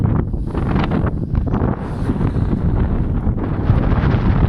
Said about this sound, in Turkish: rüzgar nedeniyle sesim çok iyi gelmiyor olabilir